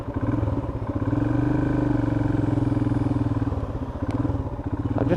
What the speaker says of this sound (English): just listen to the purr of that single 400